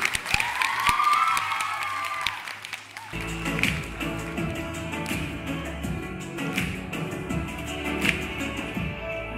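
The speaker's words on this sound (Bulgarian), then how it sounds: "Моля аплодисменти!" Audience applause at a children's awards event, steady clapping that swells in after a brief tone and continues with scattered cheers through the rest of the clip.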